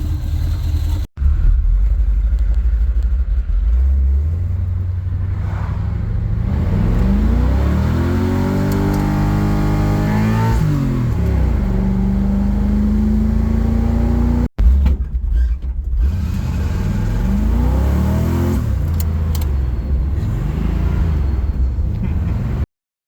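A Chevrolet Camaro muscle car's engine revs and accelerates on a drive, the roar rising and falling through gear changes, loud and close, with brief breaks in the middle.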